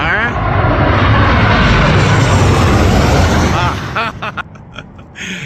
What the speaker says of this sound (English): see if I can't capture a plane flying overhead for you